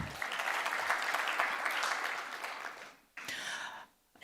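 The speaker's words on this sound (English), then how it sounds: "Another round of applause for her, please." Steady applause from a crowd at an international development conference fills the room, fading briefly before a short final burst of clapping.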